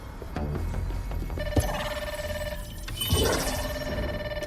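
A telephone rings in the video game Grounded 2, a steady electronic ringing tone that sounds twice in clear bursts over low background game ambience.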